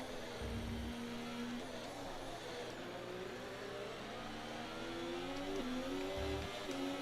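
A Formula 1 car engine in the F1 24 racing game at the Canadian GP, on worn rear tyres, holds a steady high whine throughout with shifting revs, a loud continuous drone with brief low thumps near the start and end.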